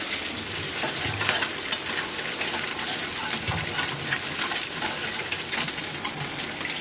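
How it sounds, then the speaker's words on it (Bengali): Onions frying in a pan for a prawn and fish curry make a loud, dense, continuous crackling sizzle close up, with a couple of low stirring bumps. "পেঁয়াজটা ভাজা ভাজা হয়ে গেছে"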